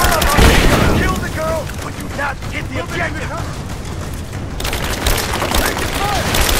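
Gunfire and a grenade explosion in Rise of the Tomb Raider, a loud, dense mix of rapid shots and a heavy boom, with shouting voices throughout and combat noise that continues without a break.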